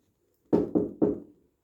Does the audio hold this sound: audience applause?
no